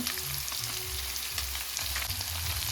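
Fish pieces with turmeric, coriander and chili powder sizzle steadily in hot oil in a pan, a continuous dense frying hiss with soft low bubbling underneath, heard alone.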